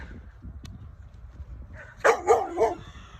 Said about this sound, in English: Oh, he's barking at the cat.